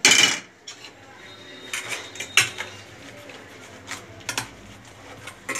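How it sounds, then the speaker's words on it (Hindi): Soaped kitchen dishes and utensils being set down, with a sharp clatter at the start followed by scattered lighter clinks and knocks at moderate distance, and no talk over them. "तो अब मैं बर्तन में सब साबुन लगा कर"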